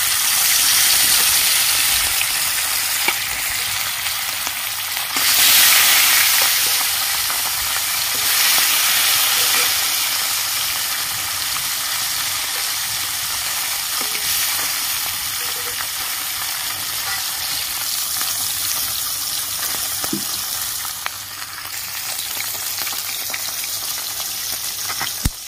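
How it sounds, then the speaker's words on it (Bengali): Small live bata fish fry in salted oil in a pan, a loud, dense, continuous close sizzle with a gushing crackle that swells and settles over the long stretch. "মাছগুলো এবার আমি ভেজে নিচ্ছি।"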